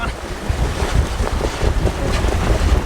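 Strong wind gusting across a sailboat under way at about six knots in 15 to 19 knots of breeze, a loud steady roar of wind buffeting the microphone over water wash and hull noise, swelling in surges throughout.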